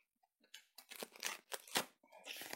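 A mail package is torn open by hand with a few close, sharp ripping and crinkling bursts of paper or plastic, separated by short quiet gaps.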